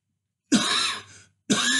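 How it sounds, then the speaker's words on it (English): Two harsh, loud coughs from a single person, close up, the first longer and the second starting about a second later, with silence before and between them. "I'm tired of coughing."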